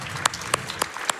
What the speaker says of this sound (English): That clap was too fast.